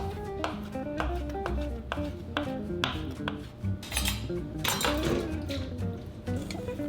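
A knife slicing lemons on a board, a brisk series of sharp clicking taps close by, roughly two per second, with a few brighter clinks mixed in and no speech.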